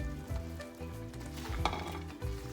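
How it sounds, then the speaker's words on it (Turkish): Green beans go into hot spiced oil in a pan, giving a close, continuous sizzle with uneven bursts of frying and stirring scrapes. "Şöyle ekledikten sonra fasulyelerimi de ekliyorum."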